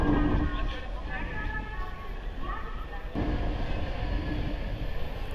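A train sits at Puri railway station platform, giving a steady rumbling, hissing mix of carriage and platform noise that runs throughout, with a brief shift midway and faint crowd sounds beneath.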